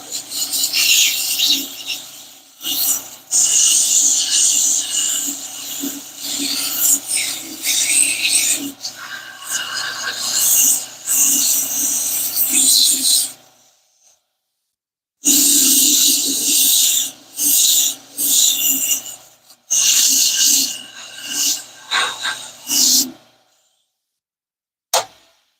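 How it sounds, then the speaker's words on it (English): A painted piece sanded by hand: steady, loud rasping strokes in a fast back-and-forth rhythm, close up, pausing briefly before resuming in shorter bursts. "So I typically don't sand this much, but putting the color on works better when it's smoother."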